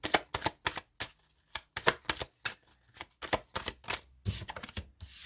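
Oracle cards are shuffled and drawn in a rapid series of crisp riffling flutters and slaps, close and dry, broken by brief pauses between bursts, with no voice over them.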